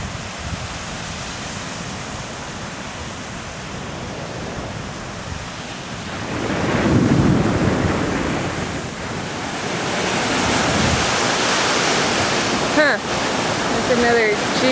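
Wind and surf at Panama City Beach on a warm Saturday morning: a steady, broad wash of waves and gusting wind against the microphone, swelling louder around the middle and staying strong to the end.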